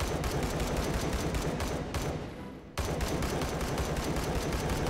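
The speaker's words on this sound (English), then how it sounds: "Oh, someone's shooting at me. Who's shooting?" Dense automatic gunfire and rapid shots in the VR shooter Hot Dogs, Horseshoes & Hand Grenades, nearly continuous and loud, with a brief dip in the firing around the middle before the volley resumes.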